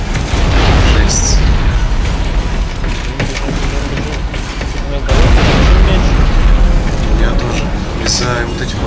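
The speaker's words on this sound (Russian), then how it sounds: "Из-за вот этих вот всех взрывов." Loud explosions and booming blasts from the sci-fi horror video game Dead Space 3, rumbling continuously and cresting around the fifth second, with two players talking over the game sound.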